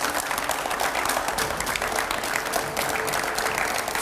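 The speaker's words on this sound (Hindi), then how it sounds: "जोरदार तालियां हो जाए" A TV studio audience greets a politician arriving on set with brisk, steady applause that fills the room evenly for a few seconds without letting up.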